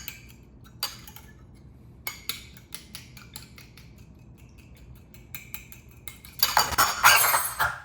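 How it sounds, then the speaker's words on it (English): An egg is whisked in a bowl, giving a run of quick, sharp metallic clinks at an uneven rhythm. A louder, hissing burst of noise comes near the end. "Watch me whisk an egg."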